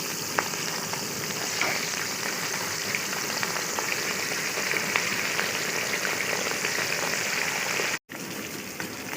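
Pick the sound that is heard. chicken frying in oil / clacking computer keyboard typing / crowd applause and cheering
chicken frying in oil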